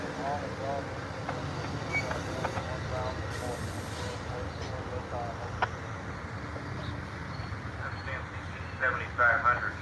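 An eastbound Amtrak California Zephyr, three coaches with a lounge car at the rear, pulls out of the Ottumwa, Iowa station: a steady rumble of wheels and rolling cars with occasional clanks and faint squeals.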